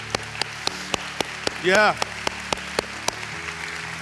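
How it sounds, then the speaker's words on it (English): A church congregation claps in a steady, evenly spaced beat of sharp handclaps, while a voice briefly calls out a rising exclamation midway through. "Can we give God a round of applause?"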